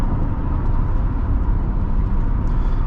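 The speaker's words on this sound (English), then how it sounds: "The wind noise is actually not bad here." Cabin wind and road noise inside a 2010 Toyota Camry LE 2.5 cruising at about 70 mph: a steady, even low rumble with a soft airy hiss above it, constant and unbroken, with no talking.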